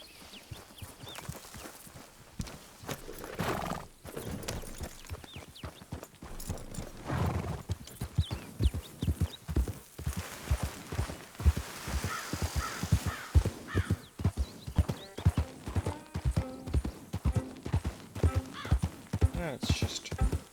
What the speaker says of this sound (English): Let's just ride the horse around a little bit so we can see how it runs.